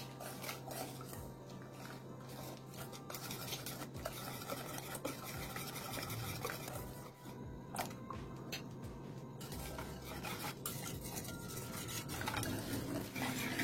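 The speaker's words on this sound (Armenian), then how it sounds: "Քիչ-քիչ կլցնենք և կխառնենք։" Milk is stirred into a cake cream mixture for a Spartak chocolate cake, with quiet steady scraping and clinking of a utensil against a bowl throughout, close and faint.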